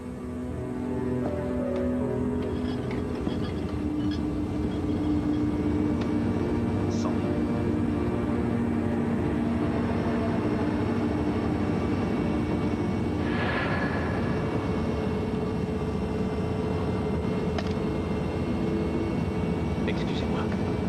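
Steady, continuous engine drone inside an airplane cabin, a constant low hum filling the whole stretch with faint murmured voices beneath it.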